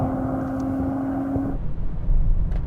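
A car engine revs and accelerates hard during a rolling drag race, a steady drone with a strong tone that shifts character midway as the gearbox kicks down, then a louder low roar near the end; no talking.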